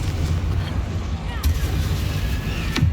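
In the video game Hogwarts Legacy, a Confringo blasting spell goes off in a continuous, dense rumble of explosions and booming impacts, with sharper cracks rising above the din and a voice now and then.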